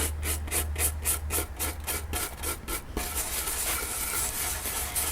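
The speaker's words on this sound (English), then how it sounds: "doing these circular motions will really bring up that wax from the table" Sticky candle wax being brushed off a wooden table in circular strokes, a close, steady rasping rub with a quick pulsing rhythm of about a dozen strokes before settling into a continuous scrubbing hiss.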